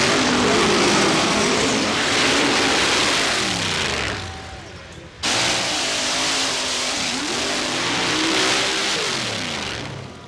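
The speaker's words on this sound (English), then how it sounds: "This 1927 Peyton Roadster sports a 550 cubic inch Chevy engine with Pontiac heads and a two-speed Lenco transmission" A 1927 Peyton Roadster mud racer with a 550 cubic inch Chevy engine, Pontiac heads and a two-speed Lenco transmission revs loudly up and down, cutting out briefly midway before roaring back, close and continuous with no talk.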